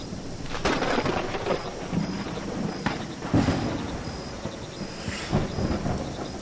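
Heavy rain and repeated thunder rumbles from a stormy northern landscape in the Viking village-building game Land of the Vikings, a steady downpour broken by several loud cracks and booming rolls, with no voices.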